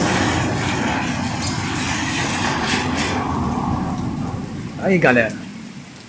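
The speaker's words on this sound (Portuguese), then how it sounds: "17h35, chuva abençoada." Steady heavy rain hisses throughout in Itumbiara, Goiás, Brazil, in the late afternoon, with a voice briefly speaking near the end.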